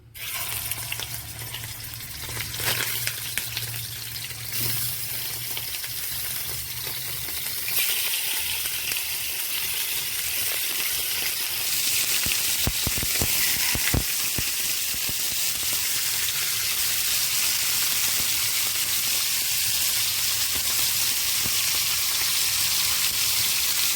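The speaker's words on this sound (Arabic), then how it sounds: "حبايبي الطاسة سخنت اهي، نبتدي بقى نحط قطع اللحمة" Pieces of meat fry in a hot pan, a steady hiss that swells into a louder, continuous sizzle partway through, with a few faint metallic clinks and no talking.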